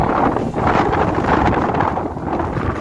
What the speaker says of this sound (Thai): ลมแรงมากค่ะวันนี้